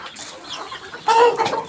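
A single brooding hen sitting on eggs in a box gives a brief, soft clucking call up close, a short throaty burst after a moment of quiet.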